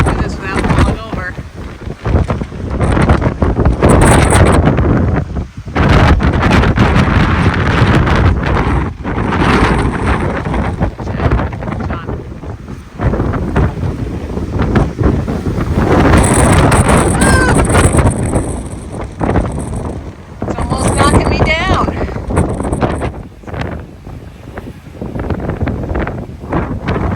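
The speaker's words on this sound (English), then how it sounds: "And then it's breezy." Strong wind gusting by a lake on a Patagonian trek near Mirador Británico and Los Cuernos, loud continuous buffeting across the microphone with brief lulls, a voice speaking at times.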